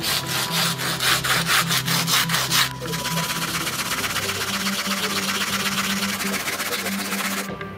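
A hand saw cuts through wood in fast, rhythmic back-and-forth strokes at first, then settles into a steadier rasping grind with a faint mechanical hum, close and loud throughout.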